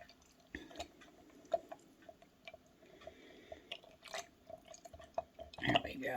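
Kefir is stirred together with powdered milk in a container, giving soft wet squelches, drips and occasional clinks at an uneven pace, with a sharper splashy burst near the end.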